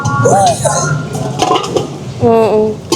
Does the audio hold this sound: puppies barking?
no